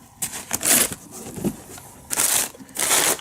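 Stiff packing paper crumpled and shredded inside a box in bursts of crackling and crinkling, loud and close, with short pauses between handfuls.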